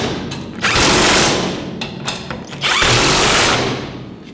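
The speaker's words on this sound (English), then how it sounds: "Put the same combination of flat washer, lock washer, and nut on the remaining three bolts, and tighten all four of them up." Nuts with flat and lock washers are run down onto the bolts of a brake pedal bracket on a 1949 Chevrolet gasser, two loud bursts of a buzzing power tool with brief ratcheting in between, close up.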